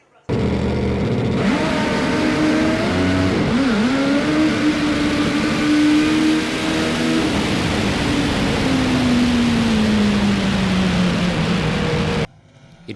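A Top Fuel drag motorcycle on a drag strip at a national championship round: a loud, continuous engine roar that climbs and holds a high rev, then trails off, and cuts out abruptly near the end.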